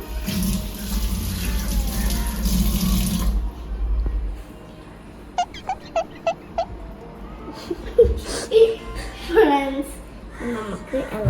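Spoon washed under a running kitchen tap: a steady splash of running water for about three seconds, then the tap stops, followed by light clinks, scattered household sounds and nearby voices.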